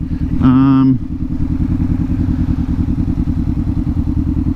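A KTM motorcycle engine idles loudly and steadily up close with a rapid, even chugging; the bike has no lights working. Briefly near the start, a higher tone rises above it.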